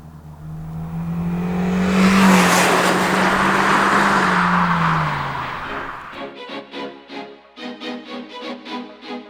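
A 2019 Hyundai Elantra Ultimate drives with a steady engine hum that swells and then fades as it moves along, and a voice speaks clearly once the engine noise drops away.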